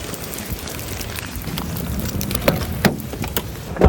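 Steady rain patters outside a car, a continuous broadband wash with a few sharper drips and knocks toward the end.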